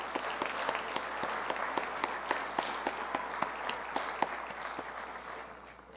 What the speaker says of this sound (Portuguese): Então, palmas para eles, por favor.